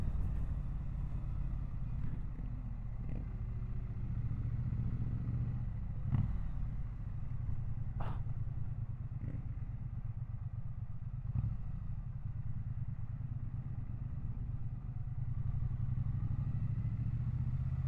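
A 2025 Triumph Bonneville T100 motorcycle engine idles steadily and close by, a low continuous rumble running throughout, with a few faint clicks and clatter on top.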